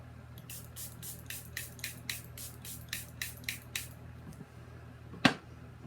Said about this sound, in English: For setting spray, I'm going to use my Charlotte Tilbury Airbrush Flawless Setting Spray.